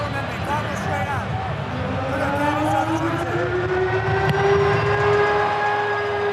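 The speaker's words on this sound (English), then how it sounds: "There is the siren for half-time at Eden Park." A long, steady stadium siren tone signals half-time at Eden Park during an All Blacks v Springboks rugby test, holding and slowly rising over a loud, roaring crowd, with commentary voices running underneath.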